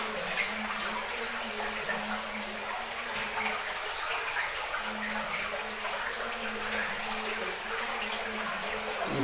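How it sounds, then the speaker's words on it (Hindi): Water flows steadily inside Eshwara Mahadev cave in Morena, a continuous hissing rush that fills the space evenly, with a faint low hum underneath. "ये पानी की आवाज जो सुनाई दे रही होगी"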